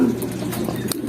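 Racing pigeons coo in a brief, close, soft murmur with a few low throaty calls over a faint background hum.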